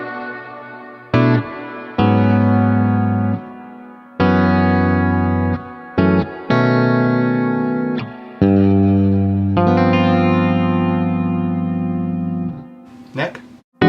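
Distorted electric guitar chords through the Neural DSP Archetype: Plini plugin's reverb ring out one after another with lingering reverb tails, loud and close.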